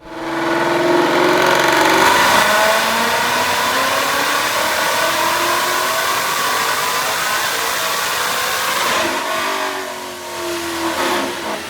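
Supercharged 2019 Ford Mustang GT (Vortech V3 JT, E85) on a dyno pull, engine revving hard and climbing in a long loud sustained roar before easing off near the end.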